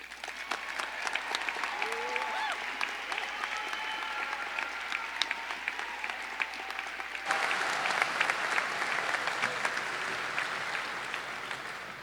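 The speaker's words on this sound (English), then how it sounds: "Give yourself a round of applause." A graduating high school class of 2020 applauds at their commencement ceremony, a steady wash of many hands clapping for the full stretch, swelling slightly louder partway through, with some crowd noise mixed in.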